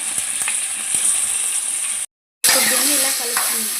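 Chicken pieces frying in hot oil with ginger paste, curry leaves and green chillies, a loud close sizzle with stirring rattle, briefly cut to silence before the hiss returns.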